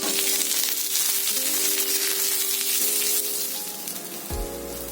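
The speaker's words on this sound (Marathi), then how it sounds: "आता आपण त्यामध्ये उभे चिरलेले कांदे घालूया, ते पण ब्राऊन कलर येईपर्यंत आपल्याला परतून घ्यायचे चांगले" Sliced onions fry in a pan for a chicken sukka dish, giving a loud, close, continuous sizzle and crackle that holds steady throughout, with no voices.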